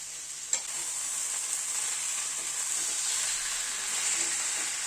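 Cabbage curry with fried potatoes and red lentil fritters sizzles steadily in a pan while being stirred, a soft continuous fry with one light clack of a spoon near the start.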